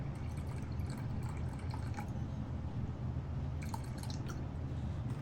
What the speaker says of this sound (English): so now let's put some water in there.